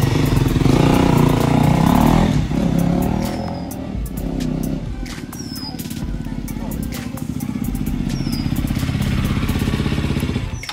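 A KTM Duke motorcycle is ridden on the road with a loud, continuous engine drone. The pitch dips and rises as gears are shifted, with wind noise and faint chirps in the background.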